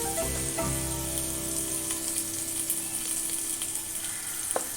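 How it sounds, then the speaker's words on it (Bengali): Ground spices hitting hot oil in a pan while cooking drumstick flowers, sending up a steady, loud sizzle that carries through the whole stretch, with a faint stir or clink near the end. "তেলটা গরম হয়ে গেছে, এবার আমি মশলাগুলো দিয়ে দেবো পরপর"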